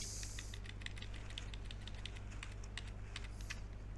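Code is typed on a computer keyboard in quick, irregular bursts of close, light key clicks over a low steady hum.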